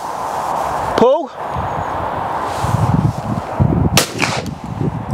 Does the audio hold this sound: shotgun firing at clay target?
yes